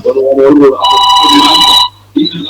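A telephone rings for a live call-in on a French-language diaspora broadcast, a bright trilling ring of about a second sounding after a voice, with talk resuming right after.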